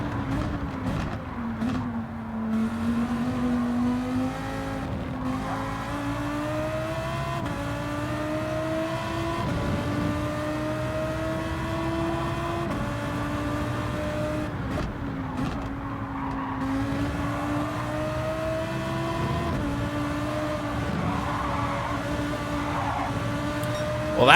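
Race car circling a track in Gran Turismo 7 during Le Mans 24H qualifying, its engine a steady droning whine that rises through each gear and drops at shifts, close and continuous with faint tire noise.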